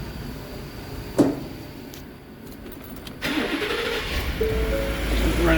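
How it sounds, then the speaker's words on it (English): A 2018 Ford F-150 with the 5.0L V8 stuck fully retarded on one cam bank, starting up and running rough and uneven with misfires, loud and close, with no talk over it. "It's gonna start misfiring pretty quickly."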